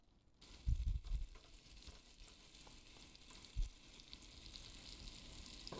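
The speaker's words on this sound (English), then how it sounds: "Oh, I love the sound of the butter." Butter sizzles in a pan with celery and onion, a soft, steady frying hiss throughout with a few low thumps and bumps of stirring near the start and midway, quiet and close with no talk.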